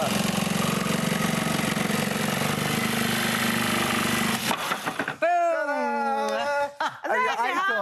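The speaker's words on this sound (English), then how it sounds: "Let's get drilling." Power drill boring screw holes in a home DIY project, a loud steady motor whine lasting several seconds before cutting off, followed by people talking.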